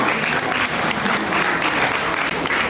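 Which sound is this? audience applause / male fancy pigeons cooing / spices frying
audience applause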